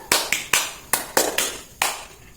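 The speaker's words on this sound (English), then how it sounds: "Students, clap 1." Students in a classroom clap together on cue, giving a quick ragged cluster of sharp hand claps, about seven slightly staggered hits within two seconds.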